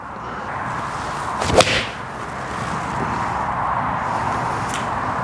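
A Titleist T100 forged golf iron strikes a ball, making one sharp, crisp impact, fairly close and loud, over quiet outdoor ambience. A fainter click follows a few seconds later.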